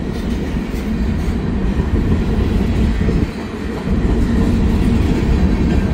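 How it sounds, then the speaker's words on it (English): A railroad train rolls past close by on the tracks, a loud, continuous rumble of wagons with a brief dip midway before the heavy roar resumes. "you think I would hear the train, but not necessarily"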